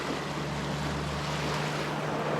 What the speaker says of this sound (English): We've got some pretty big waves coming in behind us